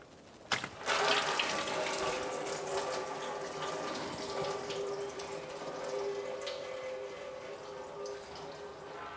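Residual coolant draining from the lower radiator hose of a 2005-2007 Ford Five Hundred, a steady splashing trickle of liquid that starts abruptly and runs on continuously, fairly close.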